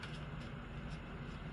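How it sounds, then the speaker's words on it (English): Steady outdoor traffic noise on a hot, sunny day, a faint continuous rumble and wash of passing vehicles in the background with no clear individual passes. "I apologize for the traffic noise."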